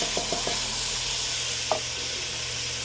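Sizzling vegetables in a veggie soup pot hiss steadily up close, joined by a few quick taps and a wet plop as a can of diced tomatoes goes in, with no one talking.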